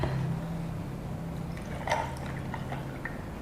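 Goodmate oat milk from Thailand pours into a 12-ounce cup, a steady liquid stream with a brief splashy drip partway through, close and fairly quiet with no voices.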